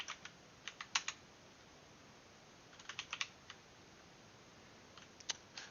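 Keys clack on a computer keyboard in short quiet bursts of several quick strokes, with pauses in between, close and faint with no voices.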